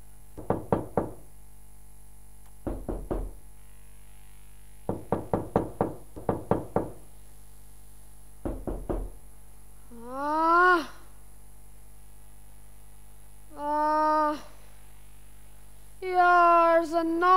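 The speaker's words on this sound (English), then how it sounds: "Here's a knocking indeed." Knocking sound effect in a school stage production of Macbeth: loud clusters of rapid knocks repeat in bursts, followed by tonal drawn-out calls.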